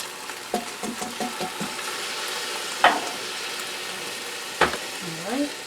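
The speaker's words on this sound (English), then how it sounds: "I'm going to add the can of tomatoes, and with all the juices in" A can of tomatoes with their juices tips into a hot Instant Pot and sizzles, a low frying hiss broken by several sharp clanks and scrapes of stirring.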